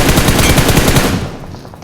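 Rapid automatic gunfire from the mobile battle royale game BGMI, a dense loud burst of shots that cuts off and fades into a quieter tail near the end.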